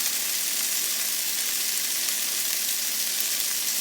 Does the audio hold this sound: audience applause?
no